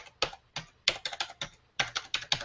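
A phone number is tapped out on a computer keyboard: close, crisp keystrokes come in quick clusters separated by short pauses, with no talking.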